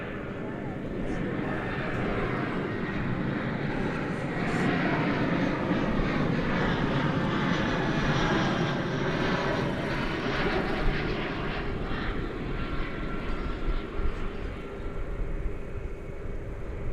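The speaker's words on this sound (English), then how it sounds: "It's another Airbus A319 arriving from Jackson" An Airbus A319 arriving at Dallas/Fort Worth International Airport produces a steady, loud jet engine roar that sustains throughout. A voice talks faintly underneath.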